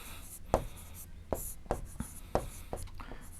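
Chalk or marker strokes on a classroom board during a maths lesson: a series of sharp tapping and scratching strokes at an uneven pace, fairly close and clear over a faint room hum.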